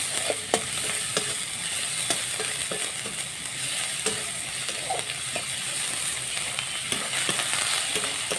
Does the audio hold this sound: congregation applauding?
no